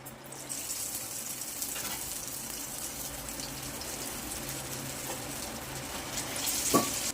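Dal vada batter drops into hot oil and fries with a steady, close crackling sizzle. The sizzle holds fairly even throughout, with a few sharper pops and clicks near the end and no voices.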